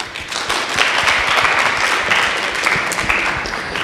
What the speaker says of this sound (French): Encore, on peut applaudir quand même.